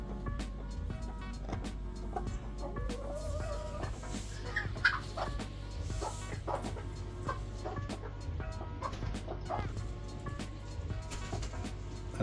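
Silkie and Peking bantam chickens cluck softly and intermittently in a small backyard flock, a faint, steady stream of low clucks with no talking.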